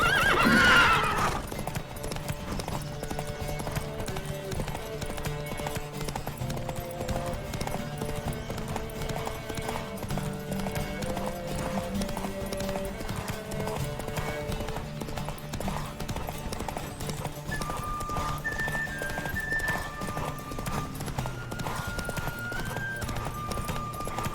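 Rhythmic hoofbeats of galloping horses in a Witcher 3 race drum steadily under a sustained orchestral music score, with a brief louder burst at the start.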